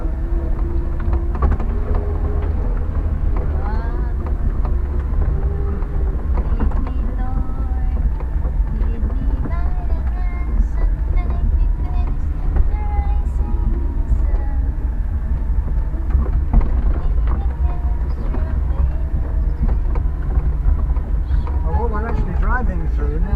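A Land Rover drives off-road through a palm plantation, a loud, steady low engine and chassis rumble running without a break, with a voice talking over it.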